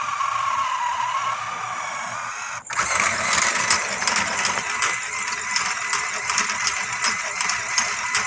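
A Meccano rope making machine twists four very thin threads into one thicker strand, giving a continuous close mechanical whir. After a sharp click partway through, it turns into a busier, rhythmically ticking clatter.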